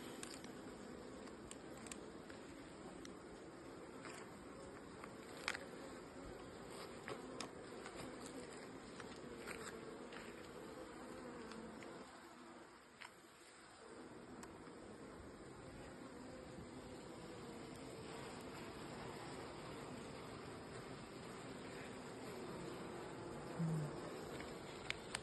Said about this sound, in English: Seems to be a lot of bees in here.